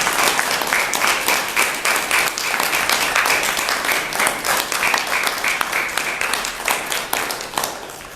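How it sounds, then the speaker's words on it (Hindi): Steady, dense applause from an audience at a farewell ceremony, many hands clapping together at a fairly loud, even level for several seconds with no talk over it. "तो एक बार जोरदार तालियों से आप इनका अभिनंदन करें।"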